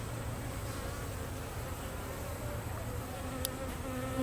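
Honey bees buzzing at a beehive, a dense continuous hum of many insects, steady and fairly close throughout with no talking.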